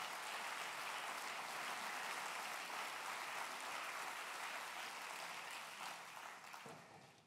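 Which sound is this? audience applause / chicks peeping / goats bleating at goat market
audience applause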